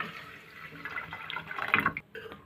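Water poured into a cooking pot of spiced rice makes a gurgling, splashing pour that builds in strength before breaking off near the end.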